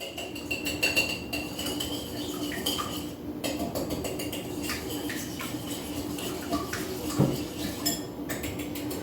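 Eggs already cracked into a bowl being whisked, giving a quick, steady run of clinks and taps from the utensil against the bowl, close by, with no talking.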